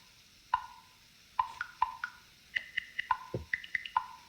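Randomized percussion from a Logic Pro for iPad unit: sparse, quiet, pitched clicks and ticks in an irregular pattern, with one lower thump near the end, no voices.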